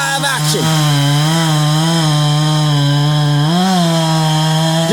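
A Husqvarna 372 chainsaw roars steadily at high revs during logging, its loud buzzing drone dipping briefly in pitch as the cut loads it, close by throughout.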